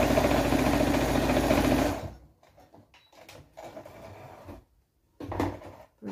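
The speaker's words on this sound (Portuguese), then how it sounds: "Vou costurar normal" A sewing machine stitches pajama pants in a steady fast whir for about two seconds, then stops, leaving soft handling and fabric sounds with brief bumps.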